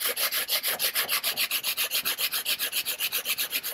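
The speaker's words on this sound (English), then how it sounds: "I'm gonna sand the bottom and sand the edges flat, just like this, using this aluminum sanding bar." Rhythmic back-and-forth rasp of 180 grit sandpaper on an aluminum sanding bar, flattening a bottom and edges, about twenty even strokes close up with no voices.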